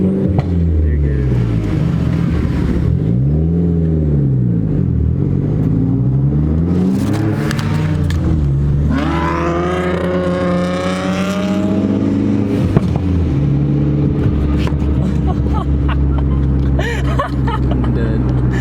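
A tuned Ford Focus ST revs up and down repeatedly, loud and close, with rising and falling engine whine and scattered crackling pops. Voices talk over it.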